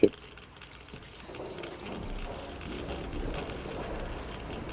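Water drains away in the video game Metro Exodus, a soft, continuous rushing and pouring wash that builds after a brief knock and carries on at low level.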